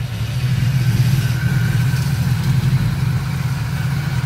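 A 1987 Ford Mustang GT with a charging fault runs steadily during a drive, its low engine rumble holding a constant, close drone throughout with no talk over it.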